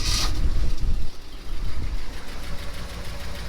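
A 1967 Ford F250 truck engine, freshly swapped into a nearly abandoned truck, turns and rumbles close by with an uneven, lumpy running note that steadies into a rough idle.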